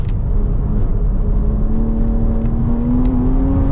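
A Revozsport BMW M race car drives at Shannonville Motorsports Park with a loud, steady engine whir whose pitch climbs slowly as it accelerates, heard up close and without talk.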